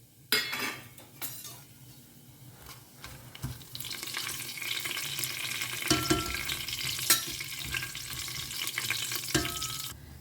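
Cardamom and other whole spices roasting briefly in a pan for veg pulao, with a steady sizzle and scattered clinks and scrapes of a spoon against the metal, close by with no talk.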